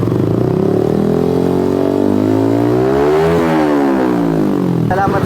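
A Yamaha R15M motorcycle fitted with a Villain Carbon 370 exhaust revs loudly and close, the engine note climbing smoothly to a peak and then dropping back, with a raspy, continuous exhaust drone throughout.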